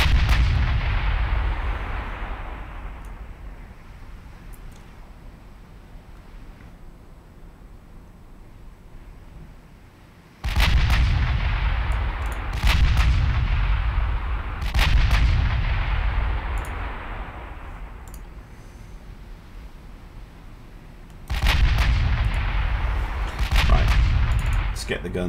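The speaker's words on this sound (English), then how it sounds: "Get the guns actually firing properly and not wasting their ammunition" Heavy naval gun salvos from battleships in Ultimate Admiral Dreadnoughts, a few loud booming volleys spaced several seconds apart, each with a long rumbling decay, over a steady low ambient rumble.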